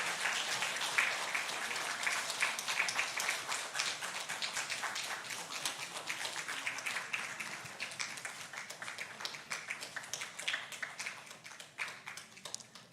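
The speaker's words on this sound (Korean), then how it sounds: "이럴 때도 박수를 쳐야 되는 게 자연스럽죠." A church congregation at a Sunday worship service applauds, a dense, steady patter of many hands clapping at moderate distance for about thirteen seconds, tapering slightly toward the end.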